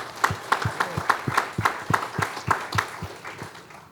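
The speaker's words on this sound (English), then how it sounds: "So let's give a round of applause for Captain Brian Johnson." Applause at a city employee service awards ceremony, honoring a fire captain: steady rhythmic hand clapping from an audience, moderately loud, with sharp repeated claps for about four seconds and no talking.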